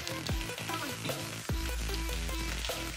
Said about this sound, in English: So I'm putting some oil in the beef so that we can also fry it as well.